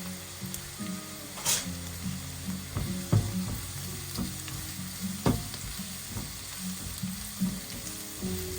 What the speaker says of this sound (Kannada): ಸ್ವಲ್ಪ ಫ್ರೈ ಆಗಲಿ. ಅದಕ್ಕೀಗ ಕರಿಬೇವಿನ ಸೊಪ್ಪು ಸ್ವಲ್ಪ ಹಾಕ್ತೇನೆ ಪರಿಮಳಕ್ಕೆ.